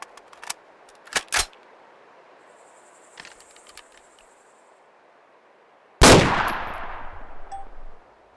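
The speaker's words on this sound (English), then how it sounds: "let's try out the standard Mark 17 rounds" Standard Mark 17 rounds fired in Arma 2: a few faint clicks and metallic ticks of handling, then one sudden loud close gunshot whose ringing echo decays over about two seconds.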